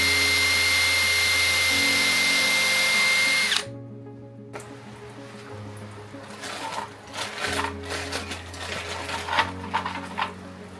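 A power drill boring holes in a homemade screw and nut organizer runs steadily and loudly, stops, then comes back in several shorter bursts with small clatters and handling noises between them.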